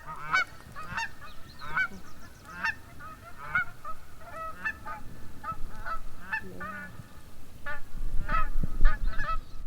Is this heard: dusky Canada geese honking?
yes